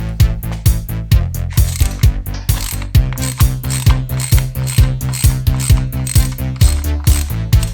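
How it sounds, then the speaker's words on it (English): A hand ratchet loosens the primary drain plug on a Harley-Davidson FXR. Rapid, evenly spaced clicks of the pawl repeat steadily throughout, loud and close, with no talking. "first up is removing the drain plug"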